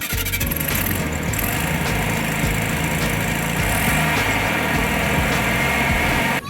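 A customised Volkswagen Beetle engine at a Bug-A-Rama car show runs at a steady, loud idle throughout, with a rough low rumble and some faint squealing, and nobody speaks over it.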